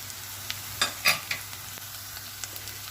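Red pepper paste and tomato paste sauté in a pan with a soft, continuous sizzle, with a few sharp stirring scrapes and clacks near the middle.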